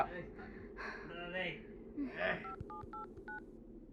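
A person speaks briefly, then a short series of electronic telephone keypad tones beeps out as a number is dialed, each tone distinct and evenly spaced.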